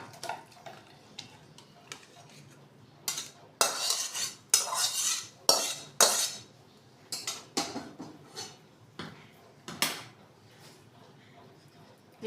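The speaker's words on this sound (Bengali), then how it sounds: "আমি একটা পাত্রের মধ্যে ঢেলে দিলাম।" Egg potato fritter curry poured from a pan into a bowl, a run of close metallic clanks and scrapes of spoon against pot in irregular bursts, no talk.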